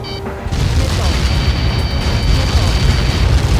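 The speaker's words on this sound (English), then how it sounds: "How many got caught in that explosion?" A large explosion in the combat flight game Ace Combat 7 starts with a sudden boom and rolls on as a loud, sustained rumble with crackling debris and no talk over it.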